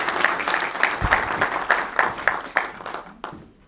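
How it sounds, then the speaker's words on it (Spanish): Audience applause after a judge's lecture on the concept of crime: a short burst of rhythmic clapping from a modest crowd that quickly fades out. "recibámoslo nuevamente con un fuerte aplauso"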